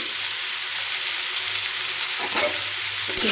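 Vegetable chop filling for a Bengali vegetarian snack sizzles loudly in a hot pan, a constant close frying hiss with a few soft utensil stirs and a sharper scrape right at the end, no voices.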